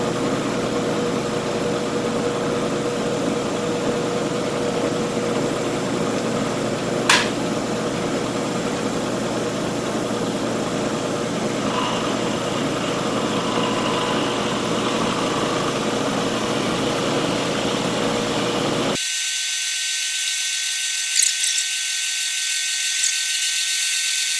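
A milling machine drives an end mill across the top of a workpiece to level it, producing a steady whirring, grinding hum with a sharp click partway through, continuing evenly before ending.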